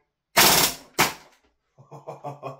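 An Umarex VFC Gen.2 MP5K PDW gas blowback airsoft SMG fires in bursts: a long sharp rapid volley, a second short burst, then a few quieter clacking shots, all close and loud.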